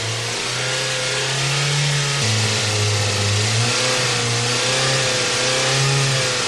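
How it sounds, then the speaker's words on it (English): A Toyota engine runs steadily in fuel-system backup mode after the vacuum sensor is disconnected, its fixed injection giving a constant hum that shifts slightly in pitch partway through, loud and continuous with no talk. "The engine is running in backup mode."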